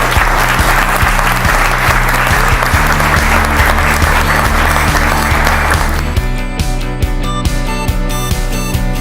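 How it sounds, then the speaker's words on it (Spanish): Loud, dense applause for Diana fills the room at a men's discussion circle session, steady throughout with music entering partway and continuing beneath the clapping. "le damos un fortísimo aplauso a Diana"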